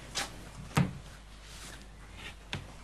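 A wardrobe door opens indoors with a few short knocks and clunks, one louder thump near the middle and a small click toward the end, with quiet room tone in between.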